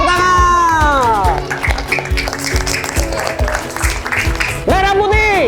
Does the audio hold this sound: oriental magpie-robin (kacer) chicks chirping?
no